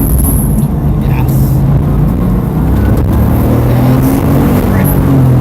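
A race car engine roars at full throttle during a practice session. The loud, sustained engine noise rises in pitch, and a voice talks over it throughout.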